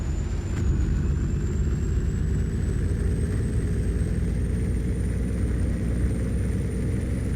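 The big diesel engine of a fully loaded Komatsu 930E-5 mining haul truck in Farming Simulator 22 drones steadily, a loud, dense low rumble with a faint high whine slowly rising above it, and a brief hiss near the start.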